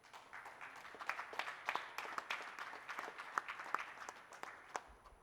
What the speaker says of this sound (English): So I think a big round of applause for all of them.